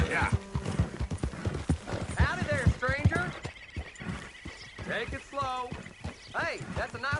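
Hooves clip-clop steadily from a horse in the Red Dead Redemption 2 video game, a rhythmic trotting beat running under frequent close conversation between characters, with a possible brief whinny.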